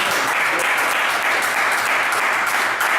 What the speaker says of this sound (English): Let's give a big round of applause for DJ